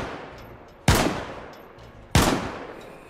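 Two loud, isolated gunshots from a new gun in DayZ, each a sharp crack with a decaying tail, spaced about a second apart against quiet outdoor ambience.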